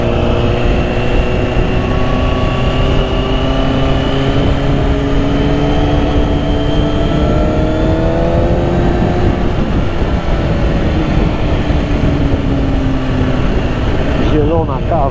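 A Kawasaki Ninja 636 motorcycle engine drones steadily while riding, mixed with heavy rushing wind noise, loud and continuous as the pitch rises and falls slightly.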